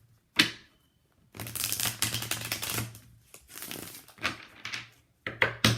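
Tarot cards being shuffled in several bursts of crisp riffling and flicking, close and fairly quiet, with short pauses between.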